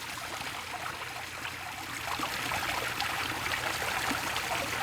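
Pond water circulating through a pump and down a small waterfall, a steady continuous trickling splash that swells slightly louder partway through, close by with no talk.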